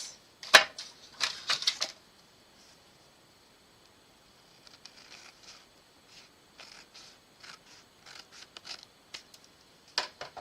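A paper Halloween passport card is trimmed to size, with faint, scattered crisp cutting clicks and snips in short clusters separated by quiet pauses, and no talking.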